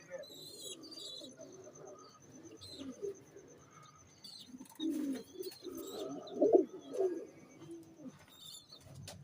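Pigeons kept in flying pairs coo softly and chirp at close range in a quiet loft, with low throaty coos rising in the second half over faint background sounds.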